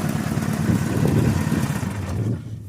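A mini tractor engine running on LPG gas chugs loudly nearby, a rough, low, uneven idle that sputters and cuts off near the end, leaving quiet.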